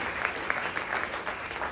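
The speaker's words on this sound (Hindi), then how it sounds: "जोरदार तालियां हो जाए दोस्तों" A short burst of crowd applause at a business seminar for a wellness company, with a dense, steady patter of many hands clapping for under two seconds.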